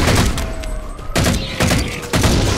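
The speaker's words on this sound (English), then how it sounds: "Go on assault rifle." Automatic assault rifle fire in the Halo 4 video game, a few sharp bursts of shots with gaps between them, loud and close over a low game soundscape.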